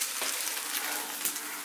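Black bean spaghetti sauce fries in a hot pan, a steady, even sizzle with soft crackles close by and no talking.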